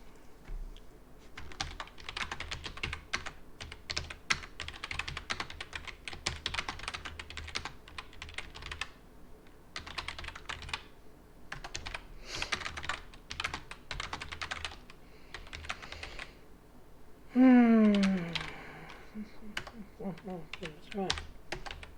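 Rapid typing on a computer keyboard fills most of the stretch in dense bursts of clicks with brief pauses, close and fairly loud, until a voice breaks in near the end.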